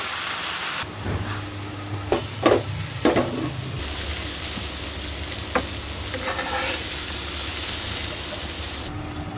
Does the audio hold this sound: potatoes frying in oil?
yes